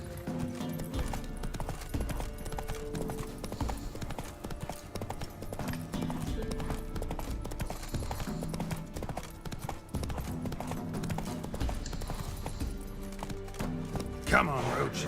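Roach, the horse in The Witcher 3, gallops in rhythmic hoof clip-clops over a game music bed, with a steady pace and a short burst of extra noise near the end.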